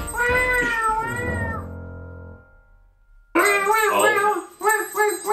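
A cat meows loudly and repeatedly in drawn-out, wailing cries, with a brief quiet pause between calls.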